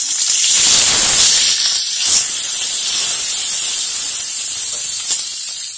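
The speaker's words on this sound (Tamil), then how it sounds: "கருவேப்பிலை போட்டுக்கலாம்." Loud, hissing sizzle of curry leaves and green chilies hitting hot oil with peanuts, a sharp burst of spitting that settles into a steady fizz.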